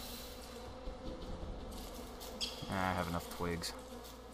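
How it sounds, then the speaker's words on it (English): Steady bee buzzing in the video game Don't Starve drones throughout at low volume, with a voice speaking briefly partway through. "I hear bees."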